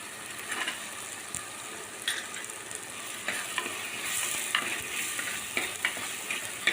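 Chopped tomatoes frying in a pan with masala spices, a soft continuous sizzle broken by occasional stirring scrapes of a spoon against the pan, close and moderately quiet.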